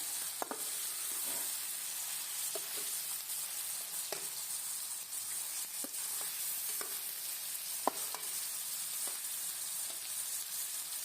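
Chicken stirred through spices in a hot pan sizzles and fries steadily, with intermittent scraping clicks of a spoon, close and alone without talk.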